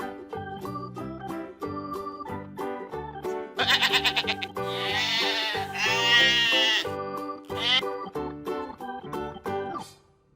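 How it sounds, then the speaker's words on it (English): A toy sheep sounds a series of electronic bleats over a bouncy synthesized children's tune, the bleats loud and repeated in the middle of the passage. "sheep."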